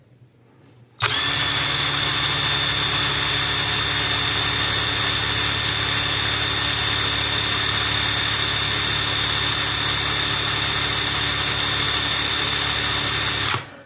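A DEVETECH cordless impact wrench spins freely at maximum speed, starting abruptly and holding a loud, steady, high-pitched motor whine for about twelve seconds before cutting off.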